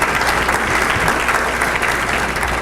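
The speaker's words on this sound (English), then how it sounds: "Let's give them another round of applause." Loud, dense audience applause at a legislative breakfast in Aptos, California, a continuous roar of many hands clapping close by for the whole stretch.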